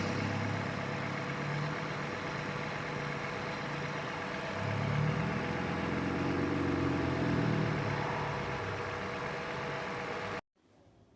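A 2013 Lexus ES350 with about 94,000 miles and Valvoline Restore and Protect 0W-20 oil idles with a steady, even hum. The engine sound holds for about ten seconds, swells slightly partway through, then cuts off abruptly.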